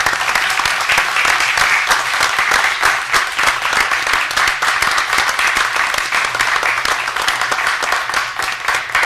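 Sustained applause from a seated audience at a school board meeting, dense and steady clapping for a young man, lasting the full stretch at close range with no voices over it.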